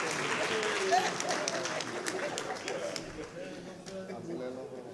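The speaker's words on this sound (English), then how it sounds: "A round of applause for" A university audience gives applause for Dr. Mathews Phosa at a book launch, with a dense wash of clapping that fades gradually and has crowd noise and faint voices mixed in.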